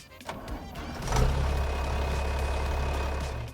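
A new tractor in Farming Simulator 25 starts up and settles into a deep, steady diesel engine rumble, close and loud after a few short clanks at the start.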